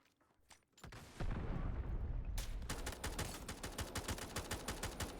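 Rapid bursts of gunfire in the video game Delta Force, a brief volley followed by a steady stream of sharp shots, with no talking.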